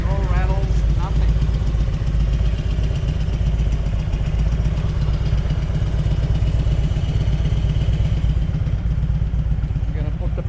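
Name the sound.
1999 Harley-Davidson FLHRCI Road King Classic motorcycle engine idling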